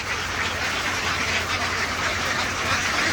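Domestic ducks quack at a pond, kept penned for ten days before release, with a steady busy chorus of calls over constant outdoor background noise.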